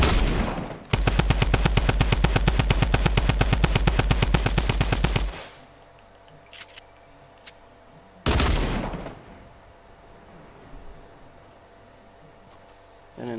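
Rapid automatic gunfire in a video game rattles loud and close in a sustained burst, pauses, then another short loud burst follows, with a voice talking faintly between.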